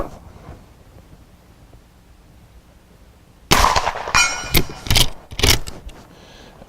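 A Marlin 1894 Cowboy lever-action rifle with a 20-inch octagon barrel, chambered in 45 Colt, fires after a quiet lead-in: a sharp, loud report followed by a few metallic clacks and further bangs close by.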